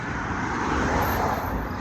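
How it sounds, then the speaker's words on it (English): Steady road traffic noise from a busy main street heard while walking, a continuous broadband rumble and hiss of passing cars with no pauses or talk. "slow down all the noise of traffic"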